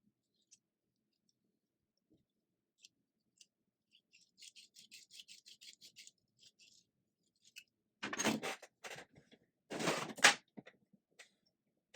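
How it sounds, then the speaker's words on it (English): Hand tool chamfering open a brass breech tube on a Buzzbee Air Warriors Twist Fury toy blaster: a quick series of short scraping strokes, then two louder, longer grinding bursts close up, with no talking. "just gotta chamfer this open a little bit"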